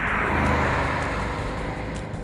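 A Porsche Panamera with a V8 engine drives along, its deep, loud, steady engine roar filling the short stretch at close range with no talking.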